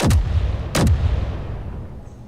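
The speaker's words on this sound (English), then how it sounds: "And that must be an artillery turret I'm standing on." An artillery turret in Space Engineers fires two heavy booming shots about a second apart, each a sharp loud blast trailing into a long rumbling decay.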